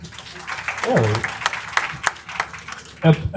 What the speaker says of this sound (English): Can we please clap for him for that?